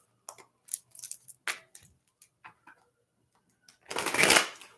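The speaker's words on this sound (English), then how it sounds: "We need 4 more shuffles." Tarot cards being shuffled by hand in a series of short, crisp riffling bursts, ending in a longer, louder riffle close up.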